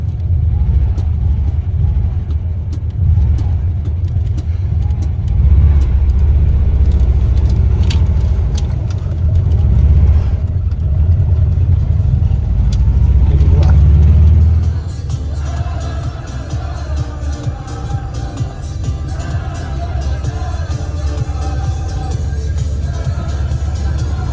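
A ZAZ 968 car's engine drones in a heavy, loud low rumble close by, then shifts midway to a lighter, steadier running hum as the small car moves off.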